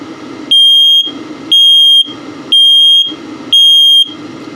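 Self-test of the LP and carbon monoxide detector in a 2021 Flagstaff E-Pro 19BH camper, giving four loud, evenly spaced high-pitched electronic beeps, each about half a second long, over a steady background hum.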